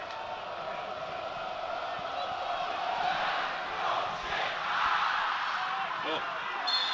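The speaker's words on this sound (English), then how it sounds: "You can hear the jeers behind the goal" Football crowd at a National League match between Woking and Barnet, massed jeering and shouting from behind the goal, swelling and falling in waves at a moderate distance.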